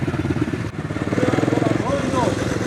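A pit bike's small engine runs close by with a rapid, buzzing putter that rises in pitch as the throttle is worked, while a voice talks over it.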